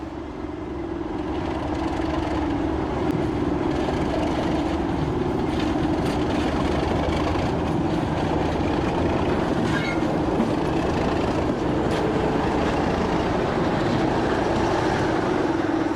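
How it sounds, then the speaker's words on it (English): A British Rail Class 37 diesel locomotive rumbles steadily with a deep throbbing engine growl and faint rail clatter, loud and continuous throughout. "The second train arrives, with the 37's characteristic growl."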